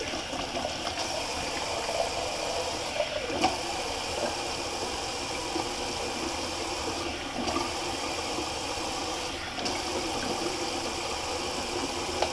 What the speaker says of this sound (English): I'll just do a little cold water rinse on the face